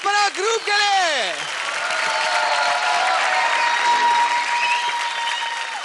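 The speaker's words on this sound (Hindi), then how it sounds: "जोरदार तालियां हो जाए परंपरा ग्रुप के लिए" Enthusiastic audience applause swells and continues steadily after a brief sung or spoken phrase at the start.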